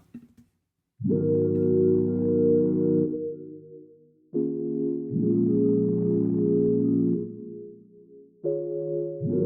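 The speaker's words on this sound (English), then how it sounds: "this is also a Serum preset called Keys Electric Piano" Soft electric piano chords from a synth preset with added chorus shimmer, several sustained chords held and changed in a slow sequence, mellow and alone.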